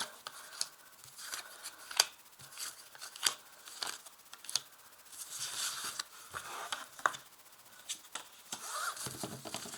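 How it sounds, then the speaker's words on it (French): Tarot cards are shuffled and drawn close up, giving soft papery riffles, slides and flicks in uneven bursts with no talking. "Donc là, je vais tirer 5 cartes."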